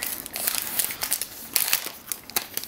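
Plastic wrap crinkles and crackles in quick irregular bursts as a Lenovo Smart Display is unwrapped close by, with no talking.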